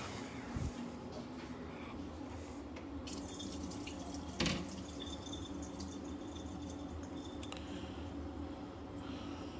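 Cooked corn for a tortellini Caesar pasta salad is drained in a kitchen sink, making quiet splashing water and dripping with a few soft knocks and clatters.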